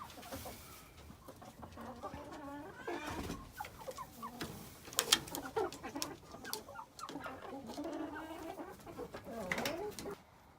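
Chickens in a hen house on a small farm in freezing cold weather cluck and squawk in scattered, overlapping bursts, fairly close and moderately quiet, with no talking.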